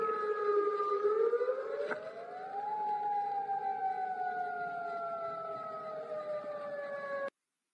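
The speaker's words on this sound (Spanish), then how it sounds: "Suenan las sirenas antiaéreas en la capital de Jordania." An air raid siren wails steadily from a distance in Amman, Jordan, its pitch slowly rising and falling in a long, sustained tone before cutting off.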